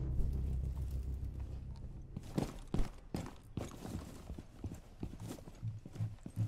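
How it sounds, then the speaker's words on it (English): Heavy enemy footsteps stomping on the floor overhead in the Rainbow Six Siege video game, a run of muffled, uneven thuds over a low rumbling game background. "He's above me, I can hear him stomping around"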